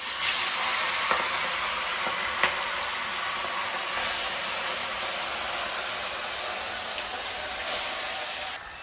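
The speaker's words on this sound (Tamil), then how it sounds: "எண்ணெய்லாம் காஞ்சிருச்சு. இப்போ நம்ம கழுவி வச்சுருக்க ஃபிஷ்ஷை போடலாம்." Fish frying in hot oil while a home cook makes a fish fry, a steady broadband sizzle holding throughout with a few soft pops and clicks, close and moderately loud, with no talking.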